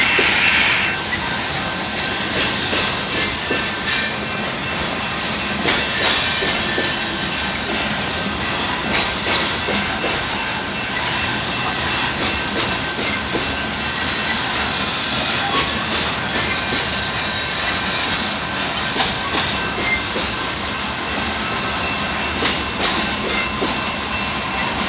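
A coal train rolls steadily along the rails as it gathers speed, with a loud, continuous roar of wagons, rhythmic wheel clatter and squealing wheels throughout.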